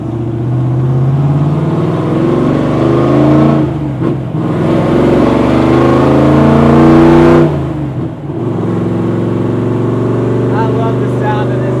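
A NASCAR-style 1963 Ford Fairlane engine roars loud and close, rising through a few hard revs with brief dips between pulls, its deep throaty rumble sustained over about twelve seconds.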